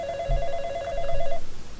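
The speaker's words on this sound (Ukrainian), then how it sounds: "Ти занадто втомився, щоб взяти телефон." A telephone rings in the video game The Coffin of Andy and Leyley, with one electronic ring tone that lasts over a second, then fades out. It is moderately loud and plays alone.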